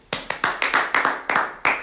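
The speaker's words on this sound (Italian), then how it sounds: "Un grande applauso al Signore." A few people clapping in a church congregation, about eight distinct bursts of claps with short gaps, close and fairly loud, with no talk over them.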